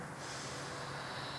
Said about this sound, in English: Let's hear the breathing.